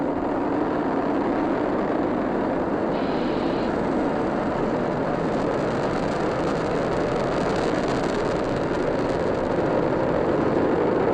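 The first stage of a Falcon 9 rocket, with nine Merlin 1D engines, roars during a crewed Dragon launch: a loud, continuous broadband rumble that holds steady without a break.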